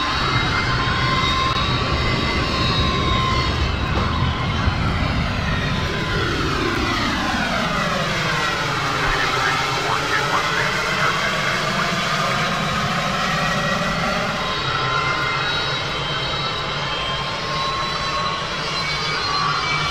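A United Airlines jet airliner on final approach to Dulles International Airport, its engine roar loud and steady throughout with whining tones that bend and shift in pitch as power changes.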